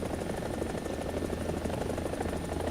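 A chunky helicopter in a combat flight simulator gives a loud, continuous rotor thrum and engine drone, with steady low pulsing and no other sounds on top.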